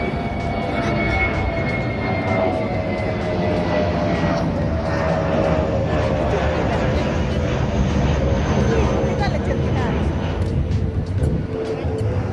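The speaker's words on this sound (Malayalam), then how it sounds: "അപ്പോഴേക്കും എത്തി നമ്മുടെ അടുത്ത വിമാനം." A steady, loud engine roar from an airplane passing over a riverside farmhouse, sustained without pause for about twelve seconds with no talking.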